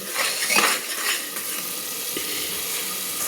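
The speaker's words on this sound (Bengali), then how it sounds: "তার জন্য মশলাগুলোকে নেড়ে সুন্দরভাবে আমি কষিয়ে নিচ্ছি।" Spices sizzle and fry in a pressure cooker for a quick chicken curry while being stirred, a steady close crackling hiss with a slightly busier scraping moment near the start.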